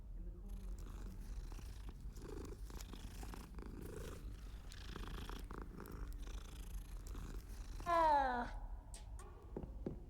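A cat in the Hogwarts Legacy video game purrs steadily while being petted, a low continuous rumble running throughout, with a brief brighter meow-like cry near the end.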